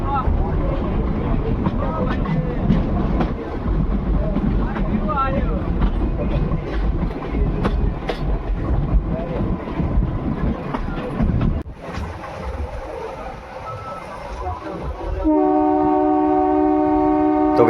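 A meter gauge passenger train runs along a curve toward Marwar Junction, and its loud running rumble and clatter go on throughout. Near the end the horn sounds in a long, steady blast, with a voice talking over it.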